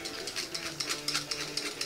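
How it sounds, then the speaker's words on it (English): A German-made open-arm industrial sewing machine for leather and shoe repair runs at a steady pace, its needle mechanism clicking and ratcheting rhythmically with a light mechanical whir, close and moderately loud. "It's a German made open arm sewing machine."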